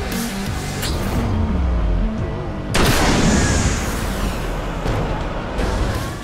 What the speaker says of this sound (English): Explosive chain reaction.